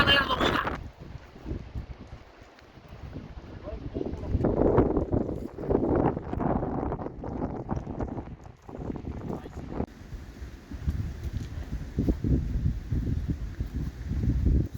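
Strong wind on an exposed mountain bluff near Harman Pass in New Zealand, roaring and buffeting the microphone in loud, uneven gusts for the whole stretch.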